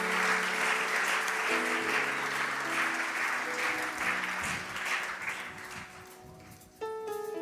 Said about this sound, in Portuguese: Aplaudam forte ao Senhor.